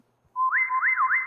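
A keyboard whistle voice on an A series model plays a clear, sustained whistle-like tone, sliding up and down between notes with portamento, alone and fairly close.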